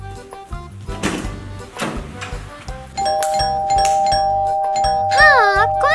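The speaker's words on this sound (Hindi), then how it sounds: "घंटी बजा रहा है।" A doorbell rings with bright, sustained chime tones, then a long, steady electronic ring holds over warbling sound effects and faint background noise.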